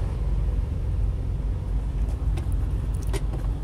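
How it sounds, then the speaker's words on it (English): A 2015 Freightliner Cascadia Evolution truck engine holds a steady 1500 RPM with cruise control set: a continuous, close, deep rumble with a few faint clicks near the end. "I'm going to put the RPMs all the way up to 1500."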